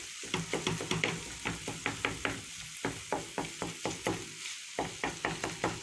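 A dough mixture being stirred in a bowl while preparing savory stuffed chausson, with a steady run of short scraping strokes in quick rhythm, close and moderately loud, and no voices.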